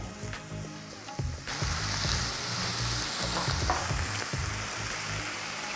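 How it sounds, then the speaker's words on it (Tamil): Leafy greens sauté in a pan with a loud, steady hiss that swells after the first second, punctuated by irregular stirring scrapes and taps close by, with no talking. "இந்த மாதிரி வதக்கும் போது கீரை வந்து கொஞ்சம் நல்லா வதங்கிடும்"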